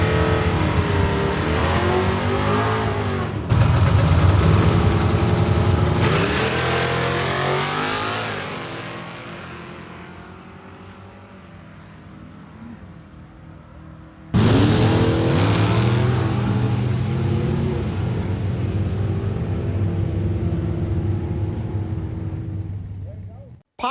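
A Chevrolet Corvette C3 makes two loud drag-strip runs at Paris, each starting with a hard launch, then a sustained high rev and a rising roar as it pulls away. The second run starts abruptly partway through.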